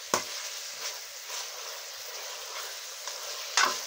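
Green chilies frying in a pan, a soft continuous sizzle with a few sharp stirring clinks scattered through, close and unaccompanied by talk.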